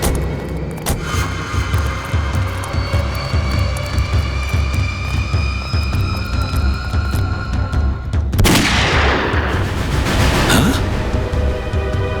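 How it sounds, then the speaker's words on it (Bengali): Gunfire effect in a Bengali television drama: a loud, sustained roaring burst with a sharp crack near the end, heard alone without talk. "গুলি চলার শব্দ।"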